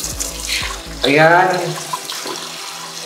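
Water gushes steadily from a bathroom pedestal sink faucet in a cottage house, starting abruptly after a few clicks and running loud and close for a couple of seconds while a person speaks briefly over it.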